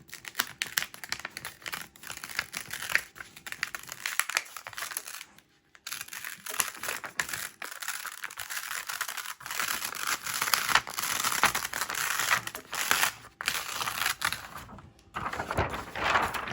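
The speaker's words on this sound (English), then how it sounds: "it's peeling much better now" A printed transfer sheet is peeled away from a t-shirt, a close, continuous crinkling and tearing rustle that rises and falls with brief pauses.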